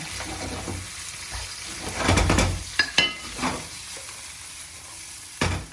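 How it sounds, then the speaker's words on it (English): Onions sauté in a pan alongside eggplant and melted chilies, a bright close sizzle broken by several sharp clacks of stirring against the pan. "I'm going to go ahead and add my onions to the pan. And saute those down until they're tender."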